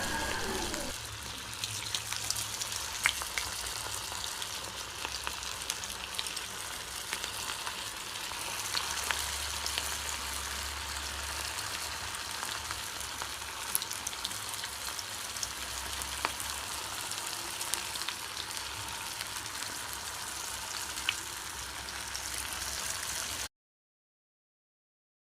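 Veg manchurian balls of cornflour, chilli, pepper and salt deep frying in hot oil, a steady dense sizzle and crackle close by throughout, with no talk before it cuts to silence.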